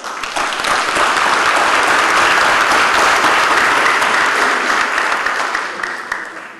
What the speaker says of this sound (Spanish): Para todos ellos pido un fuerte aplauso.